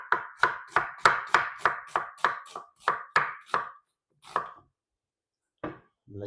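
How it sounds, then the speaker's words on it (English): Red onions halved and finely sliced with a knife on a board, giving a steady run of about a dozen crisp, close chopping strokes, then a pause and a couple of scattered final cuts. "Then we're just going to finely slice them."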